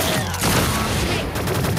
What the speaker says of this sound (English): Did someone just shoot something at me?